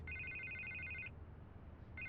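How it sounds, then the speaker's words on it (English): A telephone rings in a Batman video game: a faint, trilling electronic ring lasting about a second, a pause, then the ring starting again over a quiet background hum. "I can't get the phone to stop ringing."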